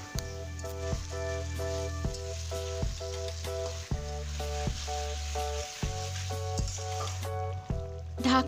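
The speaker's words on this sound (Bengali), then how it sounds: "চিকেনটাকে একটু নাড়াচাড়া করে একটা ঢাকনা দিয়ে ঢেকে দেব।" Marinated chicken sizzling in a covered pan for Kolkata-style chicken biryani, a steady fry hiss under background music that fades near the end.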